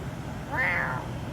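A person imitates a cat, giving one short rising-and-falling meow over a faint background hum.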